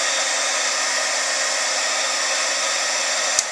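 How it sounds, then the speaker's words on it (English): A heat gun used as an embossing gun to melt embossing powder on paper, blowing a loud, steady airy roar close up throughout, with one brief click near the end. "We'll use our heat gun, our embossing gun."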